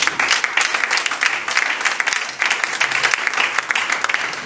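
A congregation applauds at an evening gospel church service in Togo, with loud, dense, continuous clapping from a crowd throughout.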